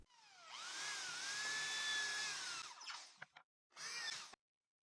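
A power drill bores into wood with a 3.5 mm bit and a 10 mm countersink bit held at 90 degrees, giving a steady high whine that winds down, then a short second burst, close and alone.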